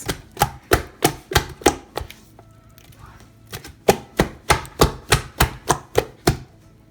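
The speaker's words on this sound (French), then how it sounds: "il faut bien taper, que ce soit homogène, que ce soit lisse" Cameroonian beignet flour dough slapped and beaten by hand in a bowl, a run of sharp regular smacks with a brief pause midway before the rhythmic beating resumes, close and loud.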